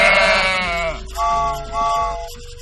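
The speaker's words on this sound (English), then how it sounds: "Sheep." A sheep bleats three times up close: one long quavering call followed by two shorter ones, loud and clear with no talking.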